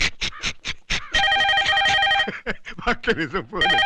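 A telephone rings in a Telugu film scene, sustained bursts of bright buzzing trill alternating with loud, excited talking between the rings.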